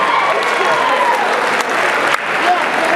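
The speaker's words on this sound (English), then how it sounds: "Give him a round of applause as he comes up here to the stage." Audience applause fills the room as a volunteer walks up to the stage at a youth speaker's school talk, steady and dense clapping throughout with a brief dip partway.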